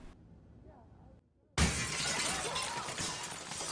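Window glass shatters in a film scene: a sudden loud crash after a brief hush, followed by a sustained bright spray of breaking glass and debris that fills the rest of the moment.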